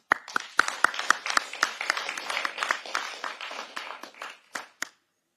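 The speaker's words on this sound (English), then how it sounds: "So, again, round of applause." A round of applause at a fraternity's 40th anniversary luncheon, a small roomful of people clapping with distinct individual claps that build, then thin out and stop.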